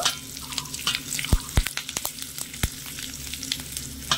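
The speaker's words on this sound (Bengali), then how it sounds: "তো এখানে তিলটাও হালকা করে ভেজে নিয়েছি।" Sesame seeds, curry leaves, mustard seeds and dried chillies crackle in hot oil as a tempering for a potato curry, a continuous sizzle broken by sharp pops and spatters.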